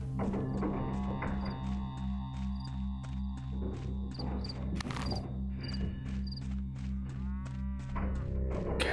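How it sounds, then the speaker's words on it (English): A cow in the video game Pathologic moos repeatedly in long low drawn-out calls over a chirping insect background, with a sharp clanking burst midway. "Cow?"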